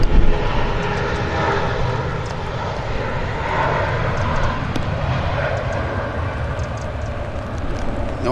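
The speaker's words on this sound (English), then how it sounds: "Airbus A320." A SmartLynx Airbus A320 departing Manchester Airport in wet, windy weather, its jet engines giving a loud, sustained roar that holds steady throughout with no clear rise or fade.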